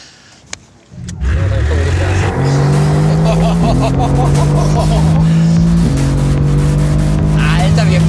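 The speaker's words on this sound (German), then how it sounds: "Alter, wir haben jetzt schon 180 drauf. Mercedes AMG GTR." A Mercedes AMG GTR sports car's engine roars loudly at high speed after a quiet start, the pitch climbing through gear changes in a sustained, close, in-cabin drone while people talk over it.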